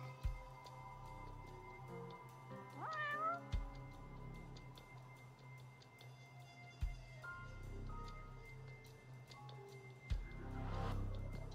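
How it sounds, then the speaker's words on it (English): A cat meows in the video game Judgment, one clear rising-falling meow followed later by a few softer ones, set against a faint ambient hum and occasional soft thumps. "Oh, look, a cat."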